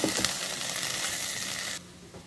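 Salt, turmeric, chilli powder and cumin powder fry in a pan for a jackfruit and prawn curry. The bright, continuous sizzle with a few stirring scrapes cuts off abruptly near the end, leaving a quieter hiss.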